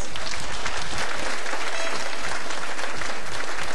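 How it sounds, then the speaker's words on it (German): Loud, sustained applause from a large crowd, dense and even clapping continuing without pause. "Er kriegt nochmal viel Applaus."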